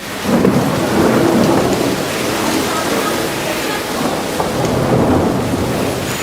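Heavy rain pours steadily throughout with low thunder rumbling beneath it, a dense continuous downpour on a stormy day, loud and close.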